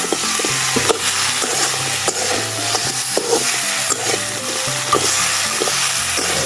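Black crabs fry in a pan with a steady, dense sizzle, stirred now and then with soft scraping knocks, close and continuous, no voices.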